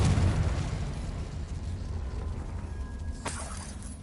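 A Confringo explosive spell bursts in Hogwarts Legacy with a loud, booming blast up front that decays into a rumbling tail, followed by a sharp, crackling shatter near the end.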